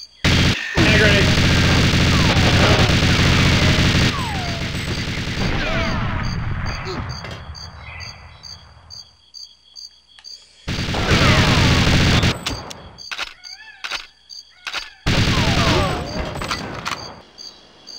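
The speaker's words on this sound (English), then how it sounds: "Hand grenade" Hand grenade explosion in GoldenEye 007 on N64, a loud sustained blast and crackling roar that fades out, followed later by more dense bursts of explosive noise with a voice talking over it.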